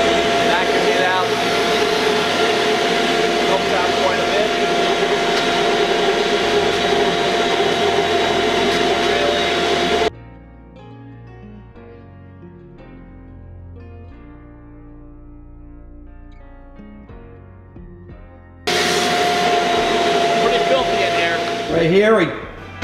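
Vacuum cleaner cleaning out the inside of a Kurzweil electric piano, a loud steady close whine that stops abruptly for several seconds of quieter background, then starts again and runs to the end.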